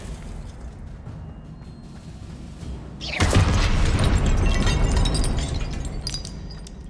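Spell explosion in Hogwarts Legacy, a sudden loud crashing burst midway with a shattering, debris-filled tail that rumbles on, following quieter game ambience with no talking.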